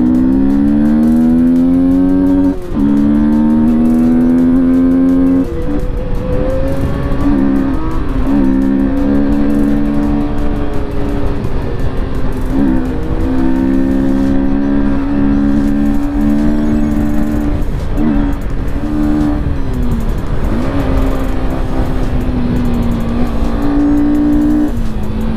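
Super bikes passing along a road, a loud, continuous engine roar whose pitch sweeps up and down as the machines rev, accelerate and go by, one pass after another across the whole stretch.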